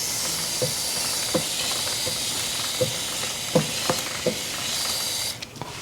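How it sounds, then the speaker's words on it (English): Motul chain lube sprayed onto the chain of a Yamaha R1 motorcycle, heard as a loud continuous aerosol hiss that holds for about five seconds, with faint clicks and knocks underneath before the spray stops. "we can go ahead and give her some old Motul chain lube while we're here"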